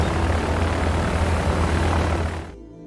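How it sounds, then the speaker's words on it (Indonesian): A light aircraft arrives in an action film scene with a loud, droning propeller engine that holds steady, then cuts off abruptly near the end. "Tak lama datanglah satu pesawat capung yang tak lain adalah para anak buah Carlos."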